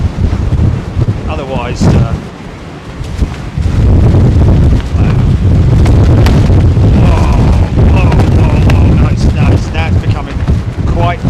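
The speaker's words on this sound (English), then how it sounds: "now it's becoming quite blustery." Gusty wind at London Heathrow Airport buffets the microphone in loud, rumbling blasts that swell and ease, with someone speaking in between.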